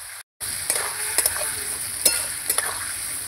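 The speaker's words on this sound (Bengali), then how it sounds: "এই যে আমি ভালো করে কিন্তু মশলা কষিয়ে নিয়েছি।" Spice masala for a light Bengali fish curry fries and sizzles steadily in oil in a pan. A spoon scrapes and stirs it in a few short clatters, and no one speaks.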